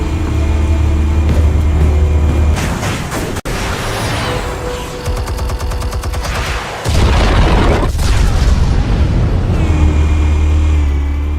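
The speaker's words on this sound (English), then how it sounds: "Explosives armed. Fire when ready." Armed explosives going off in a dramatized scene, loud booming blasts and a crackling rumble, with a sharp hit partway through and sustained roaring debris noise, no voices.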